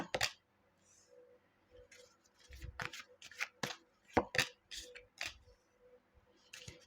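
Tarot cards are shuffled and drawn close by, with quiet, crisp flicks, snaps and taps coming in irregular bursts and short pauses.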